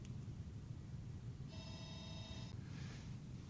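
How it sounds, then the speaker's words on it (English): A telephone rings once in a lecture room, a single bright electronic ring lasting about a second, clear over a steady background hiss. "you heard the phone, and that was interfering here"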